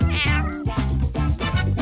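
A cat meows repeatedly and loudly up close, about four drawn-out meows in quick succession, with no talking.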